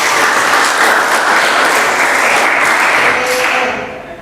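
Sustained applause from a high school physics class, steady and loud for about four seconds before tapering off at the end.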